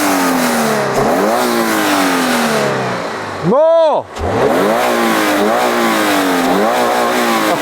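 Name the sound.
Toyota GR86 naturally aspirated boxer flat-four engine revving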